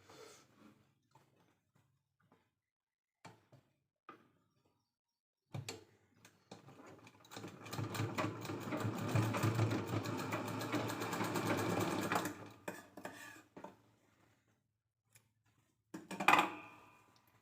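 A sewing machine runs in one steady burst of stitching for about six seconds as it sews a fold into a fabric bag made from leftover blouse material. Quieter handling sounds come before it and a short clatter follows.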